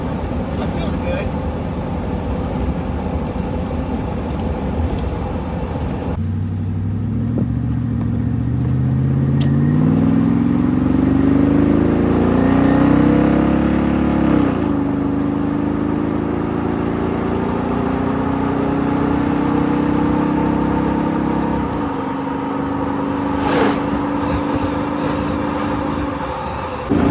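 A vehicle with a rebuilt GM 4L80E automatic transmission drives on a road test and accelerates up through the gears into fourth. The engine drone rises in pitch, drops at a shift, then holds a steady cruising hum from inside the cabin.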